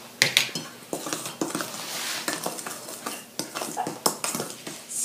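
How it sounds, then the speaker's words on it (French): Spoon stirring yogurt cake batter with flour in a bowl, repeated close scraping and clinking strokes against the bowl in an uneven rhythm, with no voices. "Et vous remuez."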